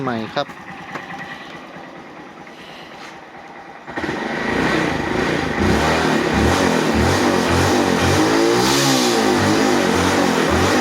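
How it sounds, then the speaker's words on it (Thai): A 2014 Honda MSX motorcycle engine, with a new fender, runs close by. It starts quieter, then grows louder and steadier with some revving, while someone talks over it. "ับเครื่องเงียบเลยเงียบกริบ"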